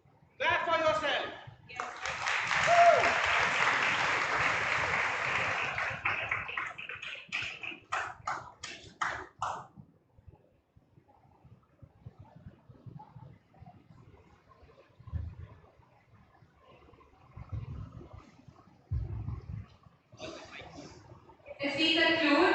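Audience at a conference conclave breaks into applause, a dense burst of clapping for several seconds that thins into scattered claps, then speech follows with a few later claps.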